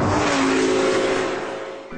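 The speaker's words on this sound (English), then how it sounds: "sometimes it changes gear very violently" A Lamborghini Gallardo Superleggera engine revs hard and loud, close by, with a rising roar that drops sharply as the gearbox changes gear abruptly.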